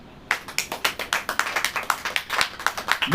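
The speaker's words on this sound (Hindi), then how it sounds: "ताली हो जाइए।" Church congregation clapping in unison during a sermon, a steady rhythmic beat of sharp claps, about four per second, starting abruptly from silence and carrying on evenly without talk.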